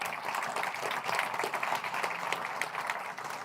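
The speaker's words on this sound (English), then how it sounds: "Another round of applause," Applause from a conference audience at a maritime industry launch event, a dense continuous patter of clapping at moderate distance.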